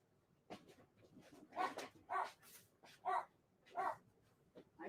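A dog barks about five or six times at a moderate distance in an irregular series of single woofs, with faint whimpers between them and no talk.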